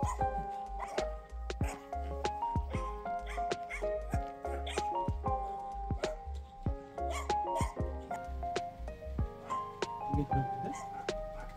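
Dogs at a countryside home in Korea bark and whimper, with repeated short yips and whines scattered throughout, fairly close, alongside other background sounds and faint voices.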